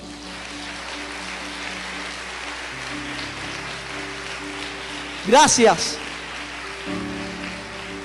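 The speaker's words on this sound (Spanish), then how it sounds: "Vamos a darle un aplauso a esos hermanos" Soft, diffuse applause from a church congregation honouring health-sector members, a steady patter like light rain under a droning background, with a voice speaking briefly partway through.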